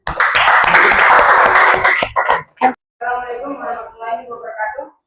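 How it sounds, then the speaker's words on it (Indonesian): Audience applause after a group presentation during a teacher performance exam, brisk clapping that stops after about two seconds, followed by scattered sounds and a voice speaking. "Kita beri tepuk tangan."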